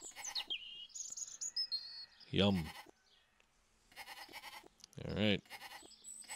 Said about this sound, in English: Descend upon that poor sheep.